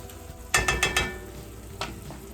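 A utensil scrapes and clatters in a pot of garlic, carrots and onions for gluten-free broccoli cheddar soup, with four quick stirring strokes followed by a couple of softer ones, close and distinct.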